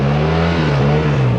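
A Yamaha TMAX scooter engine drones loudly and steadily nearby, its pitch wavering slightly as the throttle is worked in a wheelie attempt.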